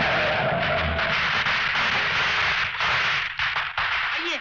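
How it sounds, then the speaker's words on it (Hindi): Firecrackers bursting in celebration at a home welcoming an arrival in a Hindi film scene, a dense continuous crackle of rapid loud pops with fainter bangs running throughout. "ये आपके आने की खुशी में पटाखे चलाए जा रहे हैं"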